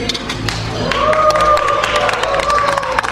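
A gala dinner audience cheers and claps loudly for a couple in a contest, a sustained crowd roar with whoops over steady applause.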